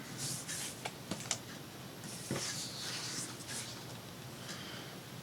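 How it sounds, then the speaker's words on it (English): Scissors cutting out a paper snowflake card, with quiet crisp snips and rustling paper close by, a few sharper clicks among steady soft crinkling. "So let's cut this out."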